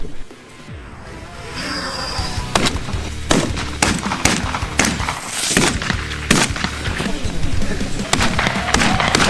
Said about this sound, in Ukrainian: Сьогодні ми стріляємо більш крупними номерами дробі